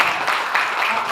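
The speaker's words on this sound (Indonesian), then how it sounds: "Tepuk tangan beri." A seminar audience on Acehnese culture claps together in a dense, steady burst of applause that fills the room for about a second.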